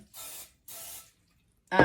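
Cooking oil sprayed from a can into a pan for breakfast: two short hissing bursts with a pause between, close and clear, followed by a brief voice at the end.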